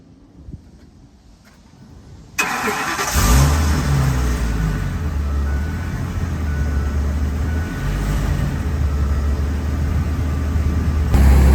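A box truck engine cranks and catches after a quiet stretch, then settles into a loud, steady, low idle that runs on without a break.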